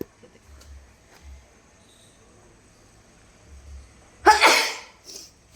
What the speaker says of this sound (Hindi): छींक छींक के बुरा हाल है।